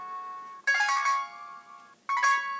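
A short melodic HTC EVO 4G phone notification chime sounds twice with a pause between, each a bright ringing phrase of a few tones, clean and close.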